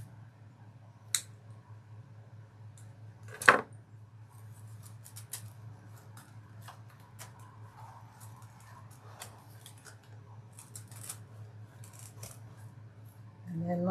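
Scissors snip for floral basket door hanger decor, a couple of sharp cuts standing out over a low steady hum, with faint small clicks scattered through the rest.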